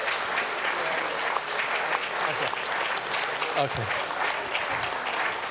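A church congregation claps continuously as people come forward, a full, sustained round of applause with voices and a brief spoken word mixed in.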